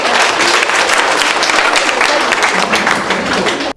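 Applause from a crowd greeting children's answers at an orphanage gathering in Goma: dense, continuous clapping that stays loud and steady for several seconds, then cuts off abruptly.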